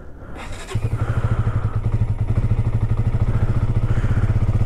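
A motorcycle engine starts in the cold near Umling La on a Ladakh ride, a close clatter of cranking catching into a loud, even, rapidly thumping idle that keeps running steadily.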